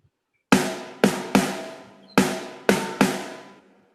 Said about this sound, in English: that very ringy snare sound